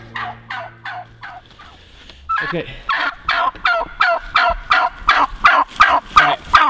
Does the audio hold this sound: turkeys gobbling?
yes